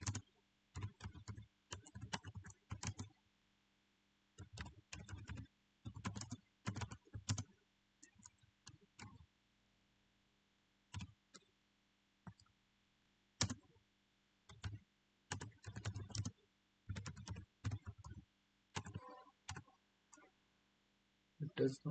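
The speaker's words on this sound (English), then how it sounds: "So I will type here that" Quiet bursts of typing on a computer keyboard while entering code, clusters of soft key clicks separated by short pauses, with a low hum beneath.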